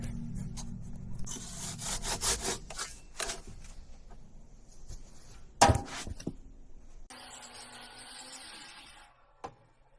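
Hand saw cutting through timber bunks for a timber frame solar mount, rhythmic rasping strokes for several seconds, then a sharp knock and a steadier stretch of cutting before a final tap; no talking.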